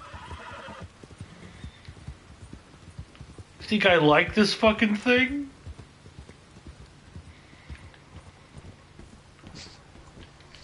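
Horse in Red Dead Redemption 2 lets out a loud whinny of about a second and a half, with clip-clopping hooves and light rain in the game world, while a player talks over it.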